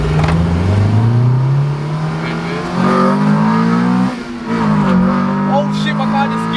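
Honda Civic EK4 fitted with a full custom exhaust accelerates hard from inside the car, the engine note rising steadily through the revs, dipping briefly at a shift, then climbing again, loud and close.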